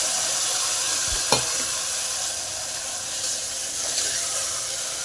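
Onions and tomatoes sautéing in a pan make a busy sizzle, broken by a sharp knock and a few stirring scrapes partway through; nobody speaks.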